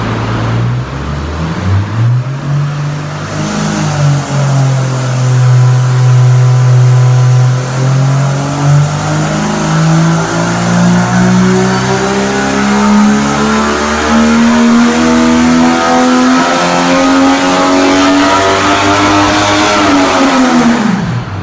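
A stock Atlas 4200 inline-six with an open throttle body and no accessories runs on a dyno, a loud close engine note that sweeps steadily upward in pitch as it pulls, then drops off at the end.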